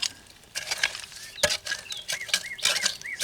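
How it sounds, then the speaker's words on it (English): Birds singing in woods, several bright chirps and warbling calls scattered through the clip with gentle rustling underneath, fairly close. "Love to hear those birds."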